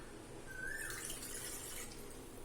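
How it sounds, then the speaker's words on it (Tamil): One cup of water poured into a pressure cooker while making milk payasam, a soft steady trickle of liquid close by with a faint rising tone, quiet and without talk. "இப்போ 1 கப் தண்ணி சேர்த்துக்கலாம்."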